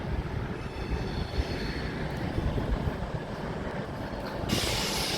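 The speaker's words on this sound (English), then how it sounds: "Oh, that's the Axminster one, so that's the Exeter Line train" A GWR Exeter Line train on the Axminster service rumbles past at close range, a steady heavy rail roar with wheel noise that swells brighter near the end.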